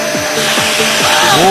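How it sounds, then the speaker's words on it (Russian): A powerful vacuum cleaner runs loud and close, a steady roaring whoosh with whirring tones that sweep up and down, continuous to the end. "страшный пылесос."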